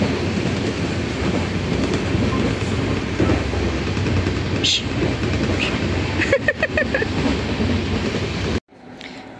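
A train rumbles steadily along the rails nearby with rhythmic clatter, a few sharp clicks near the end, then the noise drops off suddenly.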